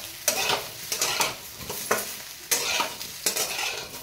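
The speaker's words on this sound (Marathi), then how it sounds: "आता मी ह्या 4-5 मिनिट अशा परतून घेते." Masala vadis sauté in oil in a pan, a continuous close sizzle broken by repeated scraping stirs of a spatula at irregular intervals.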